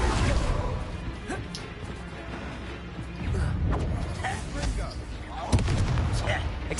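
The Confringo blasting spell is cast in the Hogwarts Legacy game amid a duel, producing sharp explosive cracks and crashing impacts scattered over a busy, noisy battle bed, with one especially hard bang near the end.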